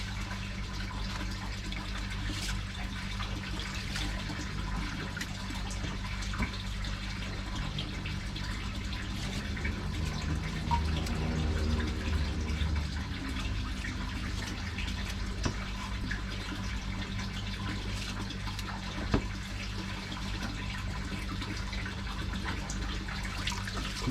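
Water runs steadily from a tap or hose while koi pond filter media is rinsed, a continuous splashing wash with no talk.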